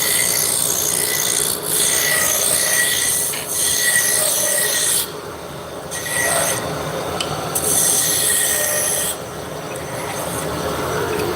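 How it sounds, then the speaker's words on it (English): Roughing gouge biting into spinning wood on a lathe, a loud continuous scraping rasp with steady high hiss that drops briefly in short pauses as the tool lifts off and re-engages. "So this is a roughing gouge."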